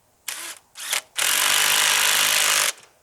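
An anchor nut is driven tight with a 17 mm socket on a power driver. Two short bursts are followed by a long, loud, continuous whirring run that then cuts off.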